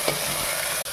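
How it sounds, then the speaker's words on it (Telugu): Onions and curry leaves frying in a pan for bombay rava upma, stirred with a steady hiss and a brief scrape, close and continuous with no talk. "ఉల్లిపాయలు, కొంచెం కరివేపాకు"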